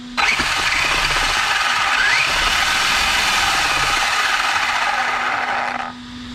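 A Rustler 4X4 RC car's upgraded Spektrum electric motor revs with the trigger held, a loud, steady high whine that rises and holds for several seconds before dropping off abruptly.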